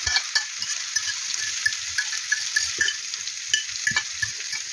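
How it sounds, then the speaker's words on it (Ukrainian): Cauliflower tipped into a hot pan of olive oil for frying: a continuous bright sizzle runs throughout, broken by irregular soft knocks and scrapes as the pieces are stirred and spread. "У нагріту сковородку я вливаю оливкової олії і висипаю все"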